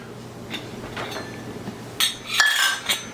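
A metal pot being handled and set up for cooking macaroni over a Dietz Millennium 2000 kerosene lantern, giving a few soft clinks and knocks, then sharper metallic clanks near the end, close by with no talk.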